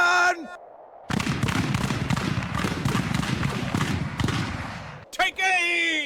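A rolling musket volley in an American Revolution strategy video game, a sustained crackle of many shots fired together, loud and dense, framed by shouted commands before and after.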